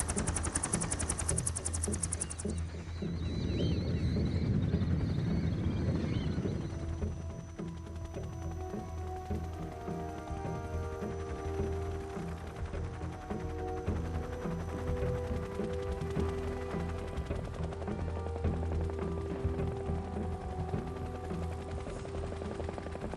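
Several helicopters lifting the Shagohod in Metal Gear Solid 3 give a sustained rotor drone with rapid thumping, louder early on and then settling into a steady layered hum with engine tones.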